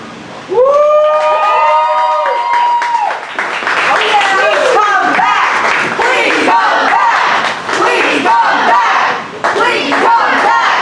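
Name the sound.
audience applause and cheering at poetry slam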